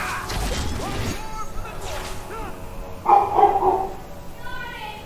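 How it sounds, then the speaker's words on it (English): A dog in the Dragon Age II video game barks several times in quick yelping bursts, mixed with a crashing impact and game sounds, while voices speak. "The dog is barking."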